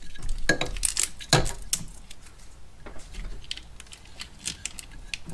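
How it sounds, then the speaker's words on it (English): Tape is pulled off the wiring loom of a 1999-2004 Jeep Grand Cherokee in a few sharp, close rips and crackles over a faint background hiss. "pull this tape off"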